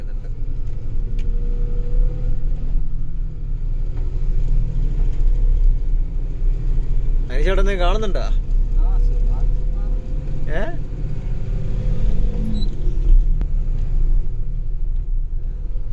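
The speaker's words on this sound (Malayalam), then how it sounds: "നമ്മളെ വണ്ടി കോടയിലൂടെ ഇങ്ങനെ പോകുന്നുണ്ട് കേട്ടോ" A loaded goods lorry climbs through thick fog on the Palchuram ghat road toward Wayanad, its engine giving a steady, close, low rumble throughout while people talk briefly over it midway.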